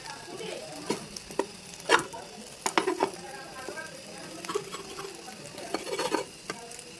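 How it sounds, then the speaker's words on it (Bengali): Eggs fry in a pan with a soft steady sizzle, punctuated by scraping and clinking from stirring, close and moderately quiet with no talking. "আগে ডিমটা ভাজি করে নিচ্ছি।"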